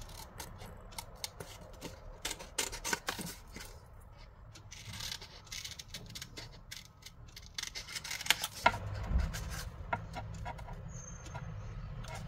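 Scissors snip the corners off paper pieces for a scrapbooking photo album, giving a series of close, crisp cuts and rustles of paper in an irregular rhythm, with a louder handling burst near the end.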